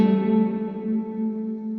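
A single electric guitar note rings out through a Line 6 Helix dynamic room reverb set to 100 ms pre-delay, its clear attack followed by a smooth, sustained decaying wash of tone.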